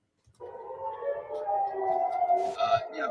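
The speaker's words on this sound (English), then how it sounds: "as sirens are going off, which has not occurred here for really today, certainly, or the last several days. They're quite extensive sirens." Air raid sirens sound in Tel Aviv, a sustained wailing tone with steady harmonics rising in and holding across the whole stretch, fairly loud and continuous, with a brief burst of noise near the end.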